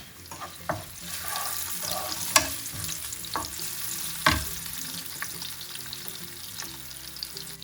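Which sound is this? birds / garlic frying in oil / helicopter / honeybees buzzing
garlic frying in oil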